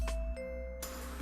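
A two-tone doorbell chime in the visual novel game Fate/Stay Night Remastered, a brief clear ding-dong over soft background music.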